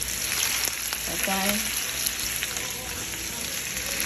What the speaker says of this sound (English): we're going to be frying up these sausages a little bit